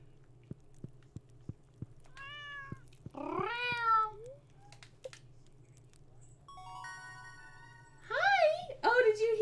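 A cat meowing in a quiet room, with a few short mews and then a louder run of meows near the end, alongside soft clicks and a faint musical tone.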